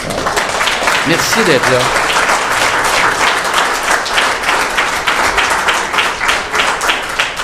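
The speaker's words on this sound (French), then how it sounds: "Alors, M. Jean Bellemare, j'aimerais ça qu'on l'applaudisse, M. Bellemare." Sustained audience applause at a naming ceremony for a sports centre in Saint-Jérôme, dense steady clapping filling the whole stretch, with a voice speaking briefly over it.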